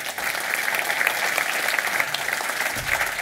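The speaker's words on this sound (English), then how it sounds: "So a huge round of applause for our first time speaker." An audience at the Umbraco Codegarden 2022 developer conference gives steady, even applause for a first-time speaker, a dense patter of many hands clapping for about three seconds.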